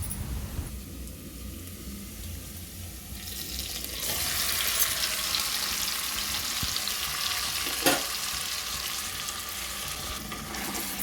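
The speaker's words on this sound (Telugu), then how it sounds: "ఇప్పుడు మ్యాగ్నేట్ చేసుకున్న మటన్ అయితే వేసుకోవాలి." Marinated mutton being added to fried onions in a big pot for biryani, bringing a sudden loud, continuous sizzle that follows quieter frying, with a brief clatter near the end.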